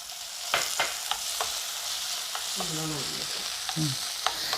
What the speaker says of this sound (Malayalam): ഇതിനി നന്നായിട്ടൊന്ന് വഴന്നു വരട്ടെ